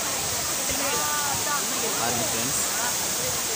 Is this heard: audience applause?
no